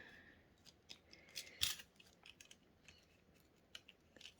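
Scissors make a few soft snips and one sharper cut through junk mail paper during collage work, quiet and close, with light rustling between the cuts.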